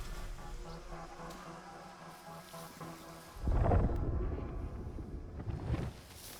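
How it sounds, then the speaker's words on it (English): A low rumble of thunder rolls in as a sandstorm approaches in Unknown 9: Awakening, a steady windy hum swelling into a loud, close boom before easing back. "That storm's not gonna be pretty."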